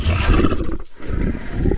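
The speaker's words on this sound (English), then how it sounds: "like a growling bear or a tiger or a wolf" A deep, loud growling roar from a big cat, rumbling continuously for under two seconds with a brief dip in the middle.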